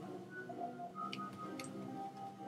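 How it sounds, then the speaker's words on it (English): Clocks tick steadily inside a video game, a faint, regular ticking over a low droning ambient background, with no talking. "The clocks are so loud."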